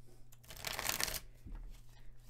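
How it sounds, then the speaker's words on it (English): Tarot cards being shuffled by hand, a brief riffling burst that swells and fades, close and alone with no talk. "Let's do another shuffle."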